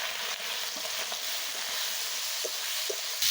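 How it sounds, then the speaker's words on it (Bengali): Eggplant sizzling in a pan of oil with spices including turmeric, a steady close frying hiss with small pops and stirring scrapes, no talk. "এখন আমার বাইগনগুলো আমি দিয়ে দিব। অল্প করে জল দিয়ে আরেকটু আমি কষিয়ে নিব।"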